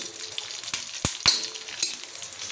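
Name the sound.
chillies and garlic frying in oil on a pan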